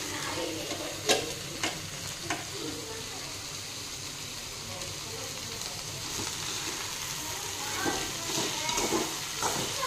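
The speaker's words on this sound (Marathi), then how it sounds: "आता ही भाजी मी छान मीठ यामध्ये मिक्स करीत आहे" Steamed tarota (takla) wild greens being stirred with salt in a hot pan, with a steady soft sizzle and hiss and occasional spoon scrapes and knocks, and a voice speaking faintly underneath.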